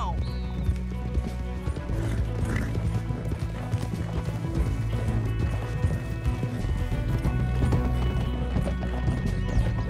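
Horses galloping in the video game Red Dead Redemption 2, a steady run of clip-clop hoofbeats with an occasional whinny, under a game soundtrack and some talk.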